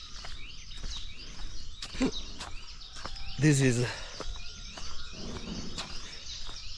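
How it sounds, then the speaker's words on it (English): Birds chirp and tweet in short scattered calls against a quiet outdoor background, with someone speaking briefly in the middle. "You can listen to the birds."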